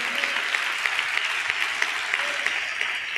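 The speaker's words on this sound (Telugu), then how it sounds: "చప్పట్లు కొడుతూ స్తోత్రాలు చెప్దాం." A church congregation clapping together in a steady, rhythmic beat, a dense even patter of many hands sustained throughout, moderately loud and unbroken.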